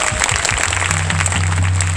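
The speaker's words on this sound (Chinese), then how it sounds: "给他掌声鼓励鼓励。" Audience applause at an outdoor jazz festival concert at Daan Forest Park's music terrace in Taipei, a dense, steady wash of clapping from a large crowd with a low sustained tone beneath it.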